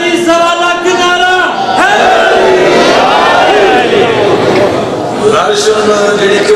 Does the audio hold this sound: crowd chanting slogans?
yes